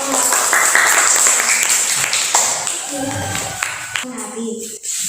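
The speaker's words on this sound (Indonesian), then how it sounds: "Ya, tepuk tangan." A school class claps hands together, a short burst of clapping mixed with children's voices and talking, loud at first and then thinning as speech takes over.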